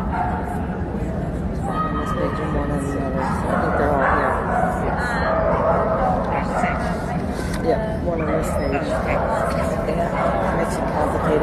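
Keeshond dogs bark and yip at a national specialty show as open class dogs go around the ring, the barking scattered through a busy crowd with people talking throughout.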